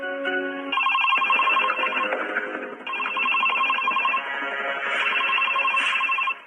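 An electronic phone ringtone plays loudly and continuously nearby in a hospital, a bright repeating melodic tone that pauses briefly before ringing on.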